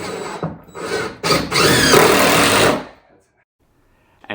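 A power drill drives screws into a shop beam in short bursts: two quick whirs, then a longer sustained grinding run that cuts off sharply, followed by near silence.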